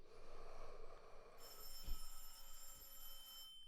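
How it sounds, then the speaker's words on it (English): A telephone bell rings with bright sustained trilling during a yoga class, loud at first, then shifting to a steadier tone, with a soft thump midway. "No joke, that phone never ever rings."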